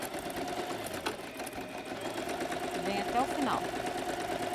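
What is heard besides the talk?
sewing machine stitching bias binding on a transparent pouch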